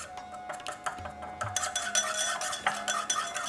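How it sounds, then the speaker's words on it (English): A small bowl of dressing made with salt and honey is briskly whisked, producing quick rhythmic clinks and scrapes of a utensil against the bowl, close and fairly light. "a little pinch of salt, and a teaspoon of honey. This is just some local honey I have got. And now just whisk this up."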